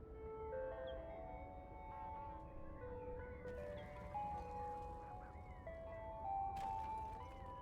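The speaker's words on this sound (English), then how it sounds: "Why does it sound like an ice cream truck?" An ice cream truck jingle plays outdoors near a car with its door open: a steady, looping melody of bright sustained tones that holds for the whole stretch, with some broadband rustle and noise beneath it.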